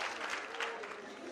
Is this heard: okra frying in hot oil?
no